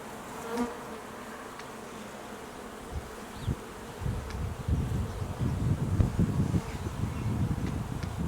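Honeybees buzzing in a steady drone during a spring inspection of a nucleus hive, with soft rustling and light frame-handling noises close by.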